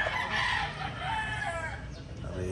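Young pullets on a farm cluck and crow continuously, a busy flock of chickens close by with overlapping calls and no talking.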